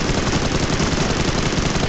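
M416 rifle firing in PUBG Mobile, a dense rapid burst of automatic gunfire with continuous cracking shots at steady loudness from start to finish.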